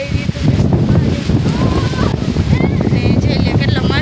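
Wind rushes and buffets across the microphone at a hilltop viewpoint at Tungeshwar, a steady, loud roar lasting throughout, with voices faintly mixed in.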